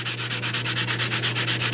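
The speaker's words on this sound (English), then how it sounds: "So I've got this little foam sanding block. It's a pretty fine grit." A fine-grit foam sanding block rubs back and forth over a small aluminum bracket, giving a steady, close, rhythmic scratchy hiss in even strokes, with a constant low hum underneath and no voices.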